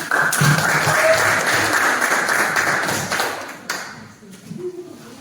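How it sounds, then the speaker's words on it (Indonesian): An audience applauding a presenter in a classroom-style group presentation, a steady wash of clapping for several seconds that thins out near the end, with a few isolated taps after. "Give applause to Dorvina"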